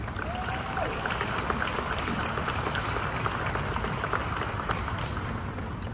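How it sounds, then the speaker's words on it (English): An outdoor crowd claps at the grand opening ceremony of the Pixar Place Hotel at the Disneyland Resort, a steady, moderately loud patter of applause with a brief tone near the start. "Let's give them a round of applause."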